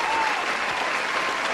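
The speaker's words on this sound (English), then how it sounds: "Albert, I must give you an applause" Applause from a small group fills the moment, a dense, even patter of clapping held at steady loudness.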